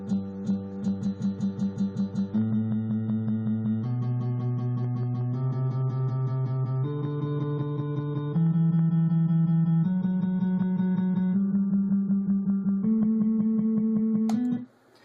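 A guitar picked note by note in a steady, flowing pattern, with clear ringing tones changing chord every couple of seconds, played alone and close.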